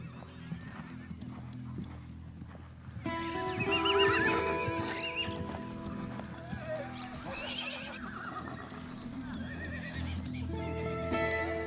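A wild herd of horses in the Amazonian marshes, with a frightened filly: repeated loud neighs and whinnies over steady hoof clip-clop and splashing, busiest from a few seconds in, with no speech.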